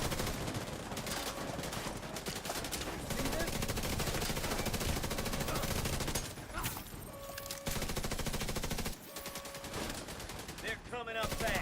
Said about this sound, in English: I guess I'll shoot him again.